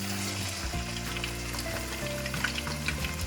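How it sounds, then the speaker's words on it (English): Beef ribs for adobo sear in a hot pan, a steady crackling sizzle close up with a low hum underneath and occasional sharper pops. "We're going to begin pan-searing the ribs."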